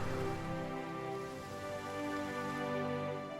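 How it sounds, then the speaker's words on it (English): Rain weather ambience from the strategy video game Hearts of Iron IV, a steady, even hiss of falling rain that holds at one level throughout with no voices. "You just hear the rain."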